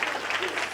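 Audience clapping at a Telugu spiritual talk session, a brief dense burst of steady applause filling the space, fairly loud and continuous without any pause.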